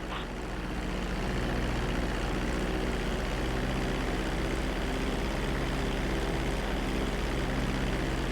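Airplane engine during a landing at GTA V flight school, a steady loud droning roar that holds evenly with no talk over it.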